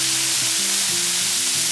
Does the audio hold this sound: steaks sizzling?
yes